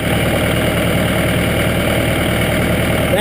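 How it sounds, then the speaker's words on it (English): A Case DX55 tractor engine idles steadily right after a cold start, with a loud, close, constant diesel rumble and a rapid knocking pulse running unbroken throughout. "that's a basic cold start on the DX55 case"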